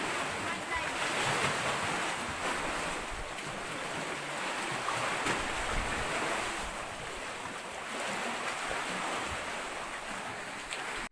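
Sea waves wash against a rock formation out at sea, a continuous surging roar with swells of loudness and wind buffeting the microphone. A voice may be faintly present underneath.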